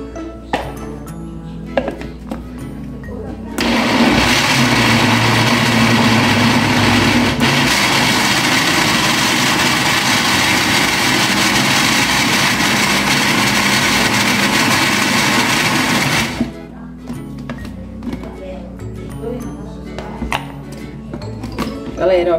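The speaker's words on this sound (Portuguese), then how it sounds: "E agora a gente vai bater isso aqui no liquidificador, galera, com um pouquinho só de água" Blender blending cooked pumpkin with a little water for shrimp-in-pumpkin, a loud steady whir running about twelve seconds, with kitchen clinks and handling before and after.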